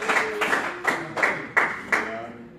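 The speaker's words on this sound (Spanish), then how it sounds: "Dele una ofrenda de palmas fuerte a Dios" Church congregation clapping hands together in a strong, steady rhythm, six loud synchronized claps about a third of a second apart, with faint voices beneath.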